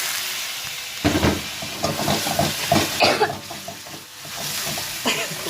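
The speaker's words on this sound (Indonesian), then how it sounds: "Bawang putihnya, cabai, kita tumis aja." Garlic and chili hitting a hot pan for an oncom filling, a sudden burst of sizzling after a quiet second, then continuous frying hiss with stirring scrapes close up.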